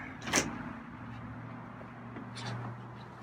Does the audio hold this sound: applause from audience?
no